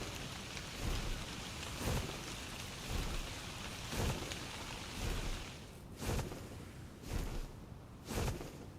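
Steady rain falling in the video game ARK: Survival Evolved, a constant hiss with regular heavier bursts roughly every second, no speech.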